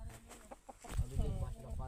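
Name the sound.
roosters about to fight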